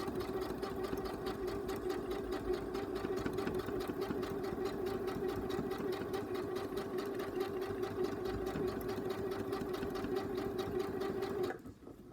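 Sewing machine stitching a zip through several layers of fabric, running steadily and close with a fast even needle rhythm and motor hum, stopping abruptly just before the end.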